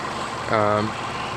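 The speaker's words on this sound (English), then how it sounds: "You can hear the direct injection just ticking away" A 2015 Range Rover Sport's supercharged V6 idles quietly and steadily nearby, direct injectors ticking, with a brief voice-like tonal sound rising over the low hum.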